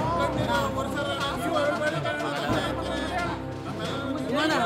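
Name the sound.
party workers shouting slogans and cheers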